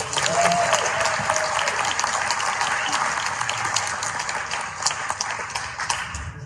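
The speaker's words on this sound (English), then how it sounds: "So let's have one last round of applause for all of our alumni" An audience applauds alumni being honored at a social work educator award ceremony, a dense, steady wash of clapping that holds at an even level throughout without any voices.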